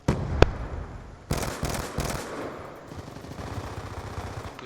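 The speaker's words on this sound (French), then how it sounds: "Grenade collante." A sticky grenade detonates in Black Ops 2 online multiplayer, a sharp close blast followed by a burst of crackling gunfire and fainter, scattered shots.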